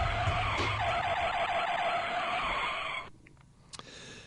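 Brakes screech as a car skids, a loud sustained squeal that cuts off abruptly after about three seconds and is followed by a few faint knocks.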